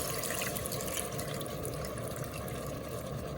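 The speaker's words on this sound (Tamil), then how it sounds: "இப்போ வந்து இந்த பாருங்க கரைச்சி வச்ச புளியை போடுறேன்." Dissolved tamarind water pours steadily into a pan for a seer fish (vanjiram) curry, a continuous soft liquid rush and splash with no talk.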